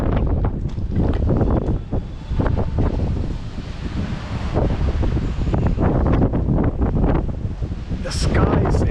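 Strong storm wind roars and buffets the microphone in heavy continuous gusts outdoors, loud and steady throughout, with a brief voice near the end.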